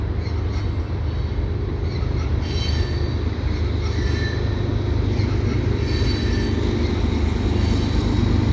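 CN mixed freight train rolling past with a distributed power unit, a loud continuous rumble of wagons and wheels with metallic squeals close by.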